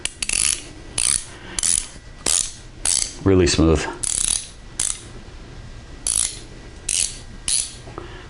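An Icon 19 mm ratchet wrench clicks in about a dozen short bursts of rapid pawl ticks, near and crisp; someone speaks briefly partway through.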